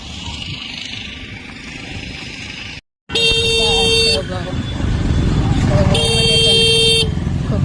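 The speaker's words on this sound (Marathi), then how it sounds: "ट्रॅफिक असते" Busy road traffic with running engines and a few loud car horn blasts, including two long honks, close and noisy, with a person talking over it.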